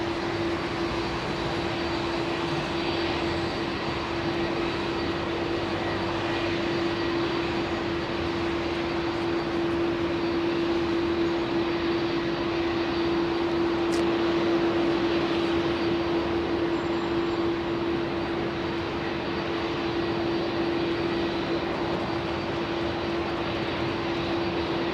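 An aircraft at London Heathrow Airport in the evening gives a loud, steady engine roar with a constant whine, unbroken and close for the whole stretch.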